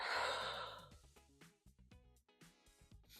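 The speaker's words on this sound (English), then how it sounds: "Deep breath in. Deep breath out." A single deep exhale during a Pilates ball glute stretch, a soft breathy sigh at the start followed by quieter breath sounds, close and gentle, with no talking.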